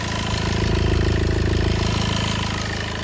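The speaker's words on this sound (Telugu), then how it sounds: "ఇంజన్ సౌండ్ కూడా మీరు నీట్గా చూసుకోవచ్చు పర్ఫెక్ట్ ఉందండి" A car engine idles steadily, a low continuous rumble with an even mechanical pulse throughout, close and fairly loud.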